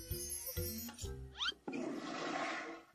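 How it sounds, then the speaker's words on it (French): A toilet flushes, a gurgling rush of water that swells and drains away after a few tonal electronic notes and sweeps, with no talk. "Encore la chasse d'eau."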